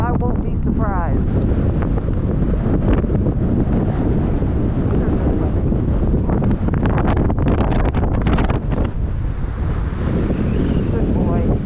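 Strong gale-force storm wind buffets the microphone in a loud, continuous roar with gusting rumble throughout, while a person speaks briefly over it.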